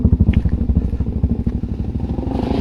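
A dirt bike ridden off-road in first gear gives a loud, close, rapid thumping engine chug with steady pulsing throttle, plus some clatter from the rough terrain.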